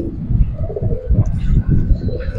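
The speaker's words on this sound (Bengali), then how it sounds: "কাজ করা একবার পুরান লাইনের কবুতর, এগুলি সুন্দরী।" Old-line homing pigeons at a bird sale coo in soft, throaty, rolling pulses close by, with faint chirps and a little background talk mixed in.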